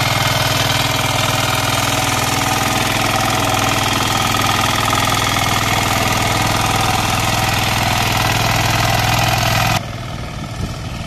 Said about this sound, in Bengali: কর্নার পর্যন্ত কিন্তু আপনার পাওয়ার টিলারটা নিয়ে যাওয়া যাচ্ছে